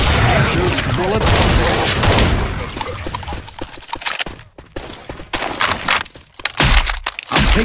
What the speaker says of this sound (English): Shoot bullets.